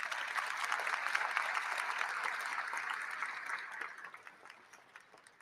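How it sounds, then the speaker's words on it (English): An audience at a Detroit Goodfellows charity breakfast applauds in a steady, even round of clapping that holds for several seconds, then thins out and fades near the end. "A big round of applause."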